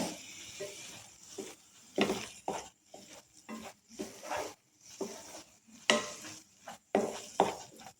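Ash gourd halva cooked with ghee and cardamom is stirred in a pan, a spoon scraping in repeated close bursts with a soft sizzle beneath and brief pauses between strokes.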